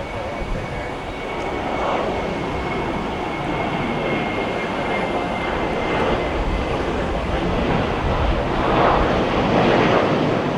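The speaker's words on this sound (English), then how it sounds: "Southwest Flight 2238 heading to Atlanta." A Southwest Airlines jet at Cleveland Hopkins airport gives off a broad, continuous roar that swells gradually over about ten seconds, heard at a distance with no voices.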